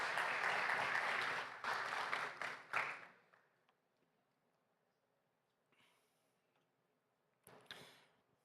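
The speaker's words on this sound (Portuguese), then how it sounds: "Dá salva de palmas para os nossos irmãos em Cristo." Applause for a couple called up before a church congregation in Campinas, a dense burst of clapping for about three seconds that tapers off, followed by near silence with faint scattered sounds.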